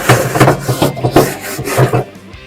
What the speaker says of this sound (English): First thing I always like to do is clean off the grill grates.